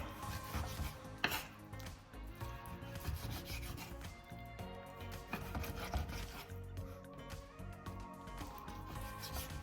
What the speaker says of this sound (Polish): wołowinkę pokroję w takie, no w kosteczkę taką dosyć drobną